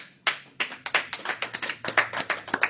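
An audience at a recovery community event claps hands, starting with a few scattered claps and building into a quick, uneven run of many sharp claps in a reverberant room.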